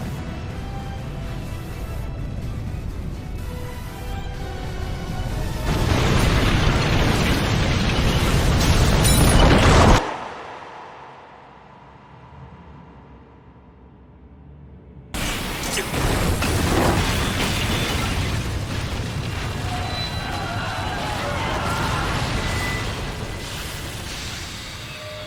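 Massive explosion in the Attack on Titan anime as a titan transforms and razes part of a district, a loud sustained roaring blast that cuts to near silence, then a rumbling aftermath with voices.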